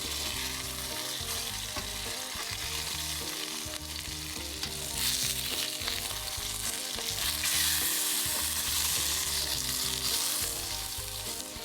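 A salmon fillet fries skin-side down in a pan until the skin turns crisp, giving a continuous close crackling sizzle with scattered pops throughout and no voices.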